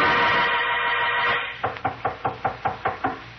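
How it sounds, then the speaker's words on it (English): Knocking on an office door in a 1951 radio drama: after a fading hiss, eight sharp, evenly spaced raps sound close and clear. "there was a knock on Mallard's door."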